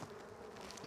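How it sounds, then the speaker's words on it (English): Honeybees buzz steadily around their hive during a spring inspection, a dense, continuous hum close by with no one talking over it. "we got tons and tons of bees coming and going"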